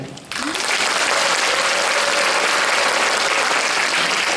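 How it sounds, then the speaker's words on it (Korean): A large audience at a school education concert in Korea breaks into loud, steady applause that swells quickly and continues evenly throughout. "박수 감사합니다"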